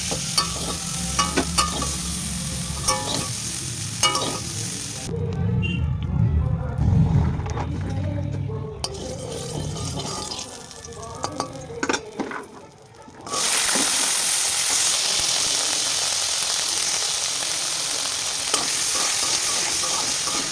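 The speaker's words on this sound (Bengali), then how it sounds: "আর এরপর ওই তেলে দিয়ে দেব ফুলকপি" Cauliflower florets sizzle in hot oil in a kadai, with spoon stirring and scraping at first, then a brief quieter lull before a loud, steady frying hiss takes over to the end.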